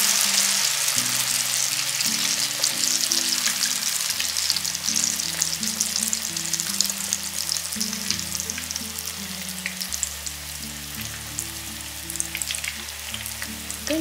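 Shrimp and sweet potato fritters fry in hot oil in a pan, a loud continuous crackling sizzle that persists steadily throughout with no talking.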